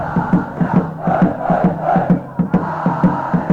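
A home school cheering squad at a Malaysian school rugby 15s match chants loudly at kick-off, a rhythmic crowd cheer driven by regular thumping beats that repeat steadily throughout.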